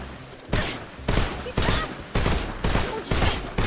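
Gunfire from the video game Metal Gear Solid Delta: Snake Eater comes in six sharp, loud bursts about half a second apart, each decaying briefly into quieter background game ambience.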